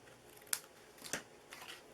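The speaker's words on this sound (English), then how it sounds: "I think I'm going to cut a little bit off of this side here" Scissors snip a few times through a paper gingerbread house treat box ornament, two sharp close cuts followed by a softer third, quiet and with no talking.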